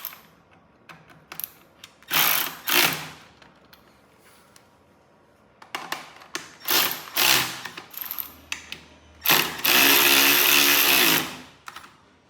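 Allen-headed bolts being tightened on a billet kickstand bracket of a 2023 KTM 450 SX-F supermoto, sharp ratcheting bursts in separate spurts, the last a longer buzzing run, close and loud between quiet gaps.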